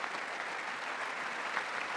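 An audience claps throughout a presidential joint address to Congress, dense and steady applause from a large hall heard at a distance, fairly faint and even, with no speech over it.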